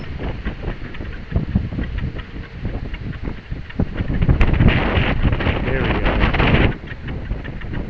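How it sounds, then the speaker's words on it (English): Strong outdoor wind gusting around a homemade vertical-axis wind generator, a loud broadband rush and buffeting on the microphone that swells and peaks midway before easing. "have some good wind. I can hear it coming."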